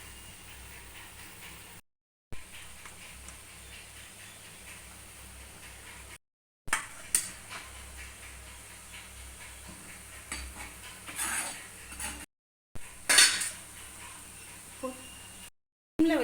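Sardines go into a simmering village-style fish curry in a pan, with scattered utensil clinks, stirring scrapes and a soft sizzle. Several brief silent gaps break up the sounds.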